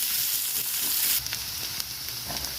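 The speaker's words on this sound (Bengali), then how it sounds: "ভালো করে নেড়ে করে একটু হালকা ভেজে নেব।" Potatoes, green chillies and onion fry and hiss in hot oil in a home kitchen, a steady close sizzle that shifts as the pan is stirred, with scraping and clinks over the continuous crackle.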